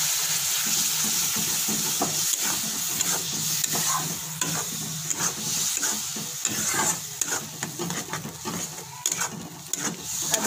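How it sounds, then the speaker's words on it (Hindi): A paste of tomato, ginger and garlic fries with spices in a pan, giving a steady close sizzle broken by frequent scraping stirs of a spoon, with no talking. "अब इसमें अच्छे से इसको भूनेंगे जब तक ये मसाले में से तेल ना छोड़।"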